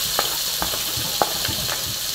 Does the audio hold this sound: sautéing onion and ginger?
yes